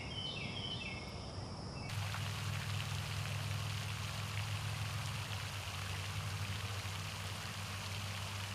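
Recorded on an Azden SGM-250 microphone: a brief snatch of birdsong gives way to a steady, heavy hiss of pouring storm rain that continues evenly to the end.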